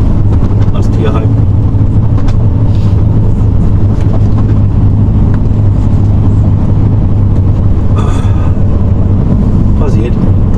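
A car driving steadily, a constant loud engine and road rumble from inside the cabin, with people talking over it.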